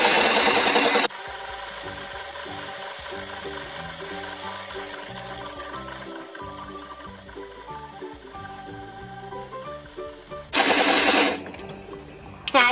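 A toy blender whirs steadily while mixing a doll's strawberry milk, a continuous mechanical buzz lasting about ten seconds between short bursts of louder noise at the start and end.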